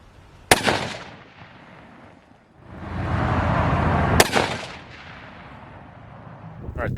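A 7mm-08 rifle fires two sharp, loud shots several seconds apart at an outdoor range, with a sustained rumble and noise between them.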